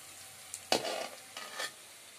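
Onions and garlic sizzling and being stirred in a pan, a soft frying hiss with a few scraping stir strokes, fairly quiet and without talk.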